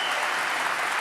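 Applause from a studio audience for a French drift championship driver, a short steady wash of clapping with no voices.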